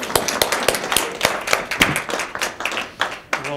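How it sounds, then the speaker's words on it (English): Small audience at a public talk applauding to welcome a guest speaker, sparse distinct claps at a loose uneven rhythm, close and fairly loud, with no voices over them. "Let's have some applause to welcome him up."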